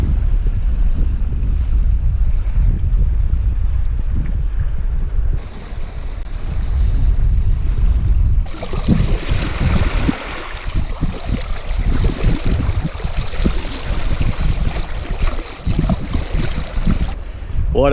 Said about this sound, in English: We've got a bit of a steady breeze doing about 4 knots.